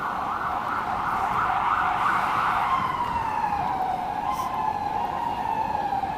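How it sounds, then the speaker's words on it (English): An emergency vehicle siren wails steadily as it passes Madison Square Park in New York, its pitch gliding slowly downward amid constant loud city traffic noise, with no talking. "So we'll just let this siren pass."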